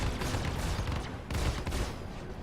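Size 1 laser repeaters fire on a Gladiator fighter in Star Citizen, making a dense, loud, continuous rapid-fire barrage that pulses in two bursts.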